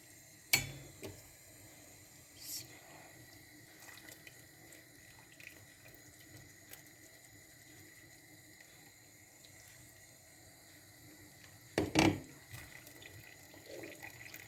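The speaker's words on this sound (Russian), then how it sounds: "Чтобы водичка стекала хорошо." Water drains from boiled Chechen dumplings sitting in a colander in a home kitchen. It makes a steady, soft trickle, with a few sharp clatters near the start and a louder clunk toward the end.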